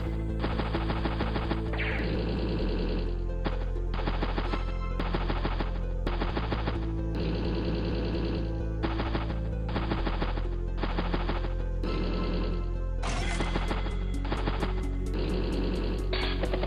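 Artillery fires during a battle in Advance Wars: Days of Ruin, heard as loud rapid bursts of gunfire over a constant musical game soundtrack for the whole stretch.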